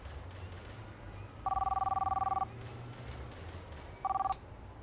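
A Roblox in-game phone rings in two bursts, a steady one-second trill followed by a shorter second ring, loud and clear over a low background rumble.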